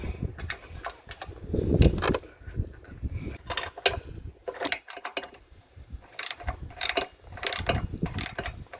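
A hand ratchet clicks in short, uneven bursts while bolts are gradually tightened on a new trailer tongue jack, close and mechanical with gaps and clanks between the runs.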